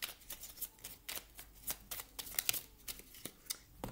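Oracle cards are handled and drawn in a rapid series of crisp, close riffling flicks and soft slaps, quiet and without talk.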